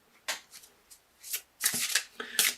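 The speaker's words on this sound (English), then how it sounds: "So let's do a Crystal Wisdom Healing Oracle card for you by Judy Hall for an additional message" Crystal Wisdom Healing Oracle cards are riffled and shuffled up close in several quick bursts of papery flutter, separated by short pauses, with no voice over them.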